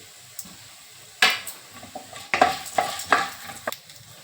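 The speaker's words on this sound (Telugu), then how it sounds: "ఇప్పుడు ధనియాలు జీలకర్ర వేసుకుందాం అవి కూడా వేగినాక మినపగుండ్లు" Coriander seeds and cumin frying in oil in a pan for tomato pachadi, with sizzling and the scrape and clink of stirring in irregular close strokes.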